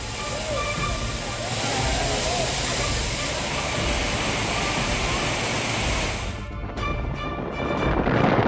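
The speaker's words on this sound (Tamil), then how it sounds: "குற்றாலம் முதன்மை அருவி, ஐந்தருவி உள்ளிட்ட அனைத்து அருவிகளிலும் தண்ணீர் ஆர்ப்பரித்துக் கொட்டுகிறது" Water gushes steadily down the Courtallam falls, a dense, loud, continuous roar of pouring and splashing that shifts slightly in texture near the end.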